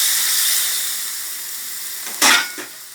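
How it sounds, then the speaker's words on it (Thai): Coconut milk hits a hot pan for a spicy Thai snakehead fish curry, a broad steady sizzle and hiss that fades slowly, then flares in one sharp burst before settling again. "กะทิค่ะครึ่งลิตรค่ะใส่ลงไปเลย"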